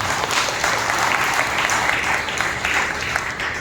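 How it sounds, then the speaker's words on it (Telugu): A church congregation claps together at a Sunday worship service opening Ash Wednesday, a dense, steady wash of many hands sustained throughout at an even, fairly loud level. "ప్రభువును స్తుతించడానికి చప్పట్ల ద్వారా మనం దేవుని కనపరుస్తాం."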